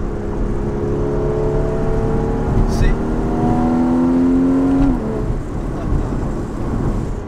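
Porsche Cayman GTS 981 engine note heard from inside while driving on a track, a loud steady drone with a rising pitch that drops sharply as the revs fall, with a voice speaking over it.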